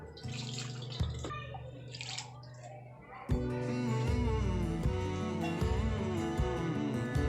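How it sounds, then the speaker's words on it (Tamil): Fresh water poured over homemade paneer to rinse it, a splashing, gurgling stream that starts after a few drips and handling noises and then runs steadily and loud, with music underneath throughout. "அதை நல்லா கொஞ்சம் நல்லா பச்சை தண்ணியை ஊற்றி நல்லா அலசிக்கோங்க."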